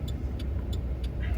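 Road traffic congestion in the small town of Natchitoches, Louisiana: a steady low car-engine rumble with faint periodic ticking, heard close and continuous.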